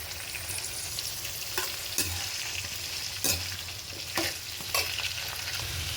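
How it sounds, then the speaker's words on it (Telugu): Eggplant pieces and curry leaves fry in hot oil with a steady close sizzle, while a spoon stirs and scrapes the pan in several short bursts. "ఇప్పుడు దీంట్లోనే కొద్దిగా కరివేపాకు వేసుకొని ఫ్రై చేసుకుందాం."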